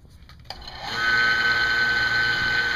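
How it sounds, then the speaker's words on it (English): An HVAC vacuum pump for a ductless mini split heat pump install starts after a faint click, then spins up into a steady, loud mechanical whine and hum that holds evenly to the end. "now what we're going to do is cut on our pump"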